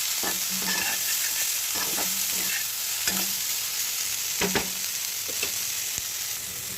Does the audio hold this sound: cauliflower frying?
yes